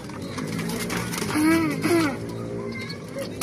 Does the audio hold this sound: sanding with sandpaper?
no